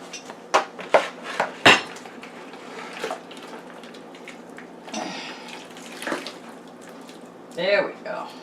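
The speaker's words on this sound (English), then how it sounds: "so I'm going to pour this in here." Liquid poured into the pot of a Power Pressure Cooker XL for a beef pot roast, with metallic clanks and clatters of cookware, a splashing pour and later sloshing, close by, with someone talking in between.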